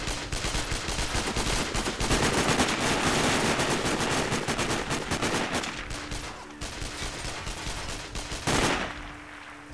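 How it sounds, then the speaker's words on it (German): Bursts of rapid automatic gunfire in the video game Sniper Ghost Warrior, loud and dense for several seconds, pausing briefly, then firing again before a sharp final shot. "Irgendwie gehen die ganzen Schüsse einen ziemlich auf den Sack."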